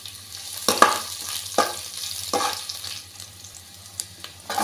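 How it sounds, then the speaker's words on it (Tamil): Fenugreek seeds, mustard seeds and garlic crackle and sizzle in hot oil for a tempering. The frying sound is moderate and constant, broken by several louder scrapes and pops, with a low hum beneath. "வெந்தயமும் கடுகும் நல்லா பொரியட்டும். பொரிஞ்சிட்டு இந்த அளவு வெள்ளைப்பூடை போட்டு தாளிச்சிக்கலாம்."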